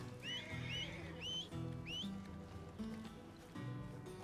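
A horse whinnies several times in quick succession in a ranch roleplay video game, bright rising-and-falling neighs up close over a low game hum, with brief talk underneath.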